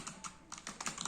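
Keys clatter on a computer keyboard during a typing test, a quick, uneven run of close, crisp keystrokes, some landing in rapid pairs, over quiet background.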